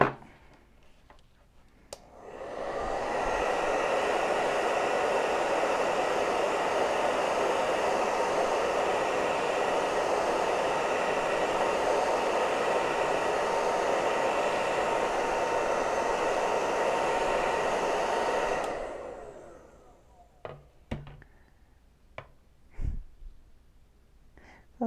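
A hair dryer blows on chalk paste over a stencil design, a steady whirring roar running for about sixteen seconds before cutting off, followed by a few faint handling taps.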